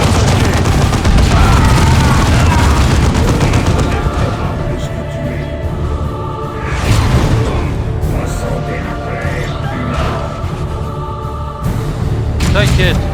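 Booming explosions from a grenade in Dawn of War 2 thud through battle noise alongside gunfire, with several heavy blasts spread across the stretch and someone speaking French over the fighting.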